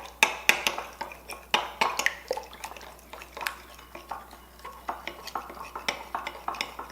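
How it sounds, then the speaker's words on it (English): A utensil stirs flour into a meatball mixture in a bowl, giving a rhythmic run of sharp scraping clinks against the bowl, close and alone. "we're going to stir in our 1 tablespoon of flour"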